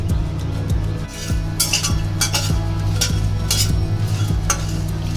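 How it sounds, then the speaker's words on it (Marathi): Dry whole spices are roasted in a pan and stirred with a metal spoon. The spoon gives regular clinks and scrapes against the pan, each about half a second apart, over a faint steady hum and light crackle. "मी एका वाटीत थोडेसे सगळे खडे मसाले घेतलेले आहेत ते पण आपण भाजून घ्यायचे आहे"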